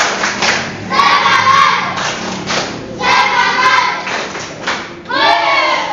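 A classroom of students doing a rhythmic spirit clap, loud and close, with bursts of patterned clapping mixed with group shouting and chanting voices, in repeated waves over several seconds.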